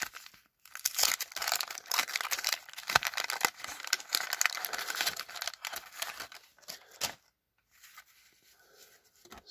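Foil wrappers of 1991 Topps baseball card packs crinkle and tear in dense bursts at close range, with crisp rustling and snapping through most of the stretch before quieting near the end.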